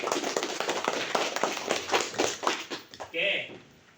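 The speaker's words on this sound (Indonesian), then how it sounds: "tepuk tangan untuk kelompok 2 ya" Classroom applause for a student group fills the room with brisk, continuous clapping from many hands that fades out, followed by a voice speaking at the end.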